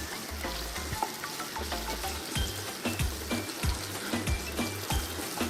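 Curry leaves fry in hot oil for peri peri chicken, giving a busy, close sizzle with bursts of crackle and periodic stirring scrapes throughout.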